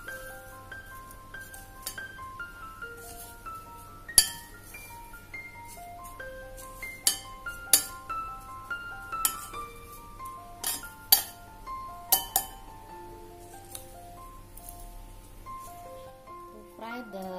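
Bread crumb mixture stirred in a bowl, with repeated irregular clinks of utensil against the bowl scattered throughout and a few sharper knocks, close by over a low background hum, while a person talks.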